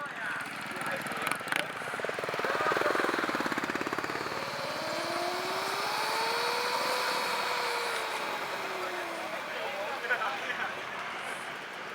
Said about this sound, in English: Those are Roqueta scooters, guys.